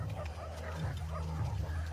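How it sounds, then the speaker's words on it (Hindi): Wild dogs growl and bark together in a tense horror-film scene, a steady, close, low rumbling chorus lasting the full two seconds with no clear speech. "ये सब जंगली कुत्ते हैं।"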